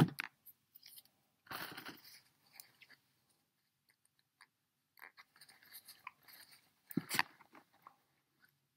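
Small scissors snipping stray hairs on a handmade miniature figure, a few faint, close, crisp cuts separated by quiet pauses.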